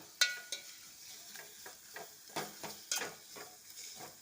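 A spoon stirs spicy curry masala with salt in a pan while it fries, giving a run of soft scraping strokes over a gentle sizzle, close and fairly quiet with no talk.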